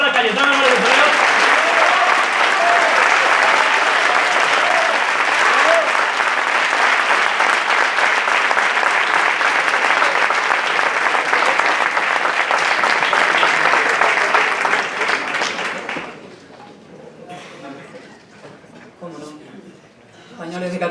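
An audience at an anniversary event at La Pedrera applauds Cayetana Álvarez de Toledo with loud, steady clapping for about fifteen seconds, then it fades to scattered claps and low murmuring.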